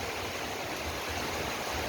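Heavy rain pours down steadily, a dense, even rushing hiss that stays constant throughout with no breaks and no voices.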